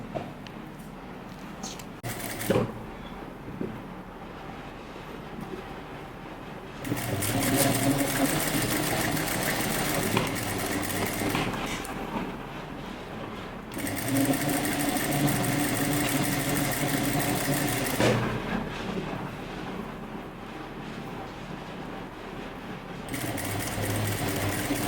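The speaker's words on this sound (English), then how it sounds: "Now we sew top stitch." A sewing machine top-stitches a jumpsuit strap, running in two long steady bursts separated by a pause, with a hum and fine rapid needle chatter. Another run starts near the end, and quieter handling comes before the first.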